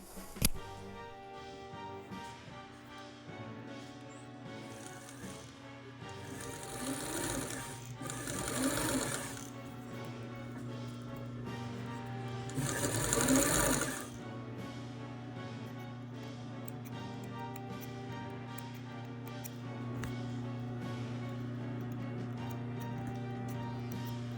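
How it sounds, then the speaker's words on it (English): A sewing machine backstitches along a seam in a pinafore dress made from a thrifted garment, its needle chattering in rapid mechanical bursts that swell and stop, then a steady motor hum under soft background music, with no speech. "backstitch along your seam where you want your zipper to end"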